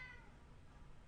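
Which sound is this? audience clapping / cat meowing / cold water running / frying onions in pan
cat meowing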